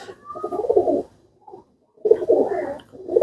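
Salara Teddy breed pigeons, including a male, coo loudly at close range in two rounds of throaty, rolling cooing separated by a short pause.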